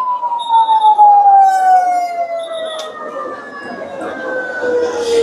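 Ambulance sirens at a plane crash site at Milestone College in Uttara, a loud wailing siren sliding slowly downward, with a second siren and traffic rumble around it, voices faintly in the background.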